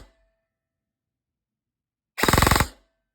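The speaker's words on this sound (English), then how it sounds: "Here's a short fire test of a full auto." An airsoft M4 rifle fires one short full-auto burst of about ten rapid, evenly spaced shots, close and loud, after near silence.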